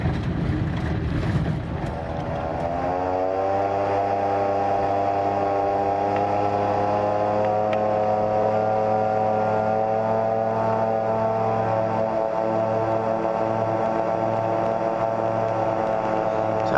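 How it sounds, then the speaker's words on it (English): A Slipstream Genesis light aircraft with large three-stage flaps comes in slowly to land, its engine droning steadily at a fairly loud, even level with a faint rise in pitch, accompanied by wind rush and no talking. "I'm quite surprised how slow it comes in with them big 3-stage flaps."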